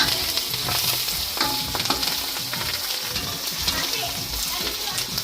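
Steady, loud sizzling of spices and curry leaves frying in hot oil, a continuous crackling hiss with occasional stirring and faint voices in the background.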